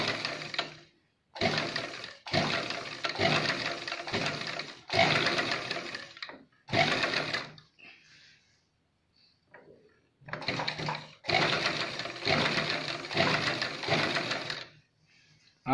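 A sewing machine stitches a churidar pajama in long loud runs close by, stopping for brief gaps and one longer pause before whirring on again.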